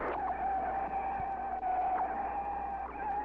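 Tires squeal in a sustained, high-pitched screech as a race car skids out of control after a tire blowout at the 1963 NASCAR Grand National World 600, heard on old, thin-sounding race footage.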